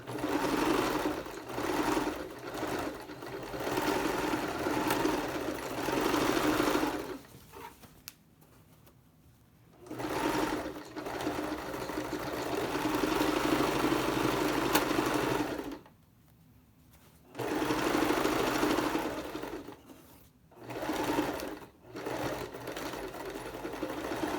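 A sewing machine runs in several long, rapid stitching bursts separated by short pauses while it sews elastic onto a fabric bag, close and steady with no talk.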